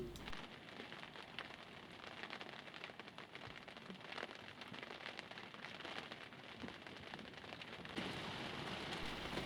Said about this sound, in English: The rain steadily increased and then increased some more until in the end it was absolutely hammering down